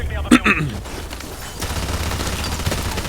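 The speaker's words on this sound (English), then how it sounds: "I love turret guns." A turret gun fires in Call of Duty 4: Modern Warfare, a quick burst of sharp, loud shots near the start, followed by a rougher stretch of continued firing and battle noise.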